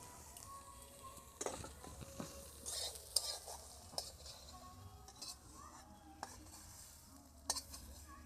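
Lightly fried soybeans tumble into a pan and get stirred, giving quiet scraping and clattering of a utensil against metal over a faint sizzle, with a few sharper clinks.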